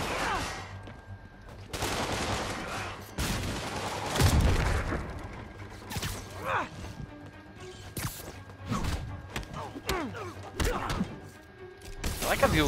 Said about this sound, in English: there's gunshots going on